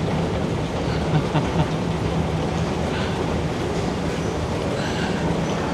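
A Qatar Metro train runs on the red line toward Lusail, a steady loud rumble of wheels and carriage noise that fills the space without letup and carries no talk.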